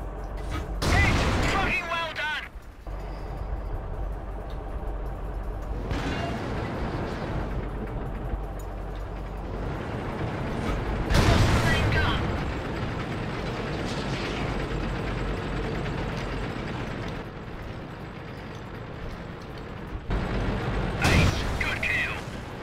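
Tank guns firing during a World of Tanks battle, several heavy booming blasts spread across the stretch over a constant engine rumble, with voices talking throughout.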